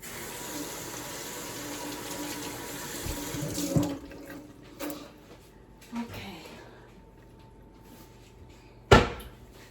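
Water runs steadily from a kitchen tap into a sink while hands are washed. The flow then shuts off and is followed by a few knocks and a sharp clatter near the end.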